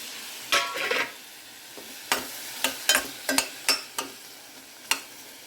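Tomatoes dropped into a hot pan for a breakfast dish and stirred, giving a steady sizzle with a handful of sharp utensil scrapes and clicks spaced through it, close by, with no talking.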